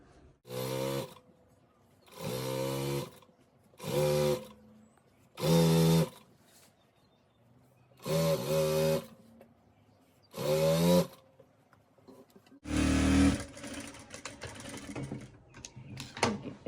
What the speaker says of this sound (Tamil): ஒற்றை பக்கம் கீழே மடித்து தைப்போம்.